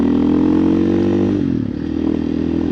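A 2024 KTM EXC-F 500 TPI dirt bike fitted with an FMF muffler roars loud and close under hard acceleration in third gear, its steady engine drone dipping briefly as it shifts up.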